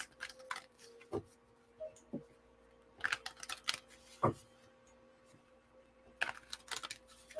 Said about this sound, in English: let me just shuffle a little bit more